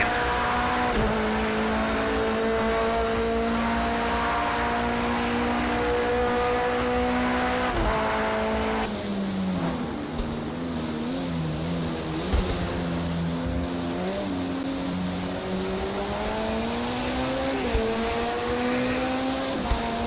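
An LMP2 race car in Project Cars 2 at Monza's Autodromo Nazionale, its engine whining loud and close as revs climb and drop through gear shifts, with no talk over it.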